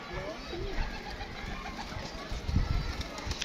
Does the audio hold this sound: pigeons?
yes